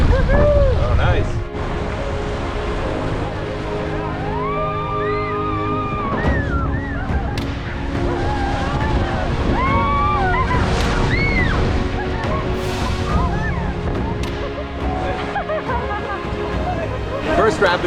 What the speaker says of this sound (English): The beginning of our rapid section.